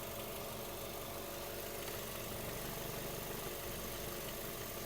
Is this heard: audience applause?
no